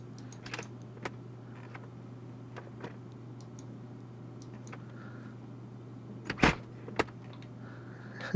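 Window latch and cabin handles worked inside a simulated Cessna C172 cockpit, heard as a scatter of faint clicks and ticks over a steady hum, with two sharper latch clacks near the end.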